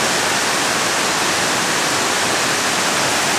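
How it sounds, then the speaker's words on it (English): Water rushes over natural rock water slides in Sequoia National Park, a loud, constant broadband roar with no pauses and no voices. "This is what the Indians used to have water slides on."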